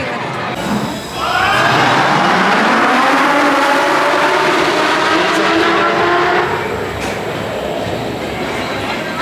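Red Force roller coaster at Ferrari Land, PortAventura, launching: a loud, sustained rushing roar with a rising mechanical whine that builds after the first second and holds steady for several seconds before easing slightly, with no voices.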